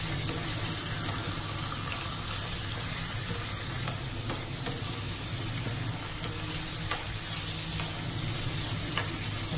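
Food sizzles steadily in a hot pan as it is stirred until browned, a continuous close frying hiss with soft scraping strokes and no voices.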